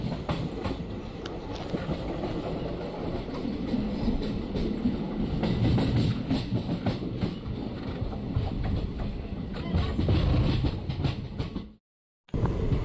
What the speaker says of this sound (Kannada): ನಮ್ಮ ಟ್ರೈನ್ ಈಗ ಕಲ್ಲಮಲ್ಲ ಅನ್ನೋ ರೈಲ್ವೆ ಸ್ಟೇಷನ್ಗೆ ಬಂದಿದೆ